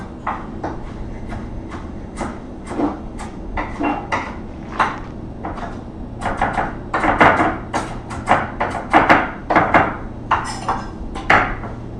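Curly leaf parsley being chopped quickly with a knife on a board: a fast, irregular run of crisp taps and thuds, close and fairly loud, with no talking.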